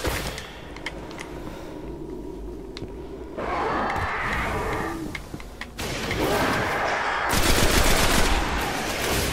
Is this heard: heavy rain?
no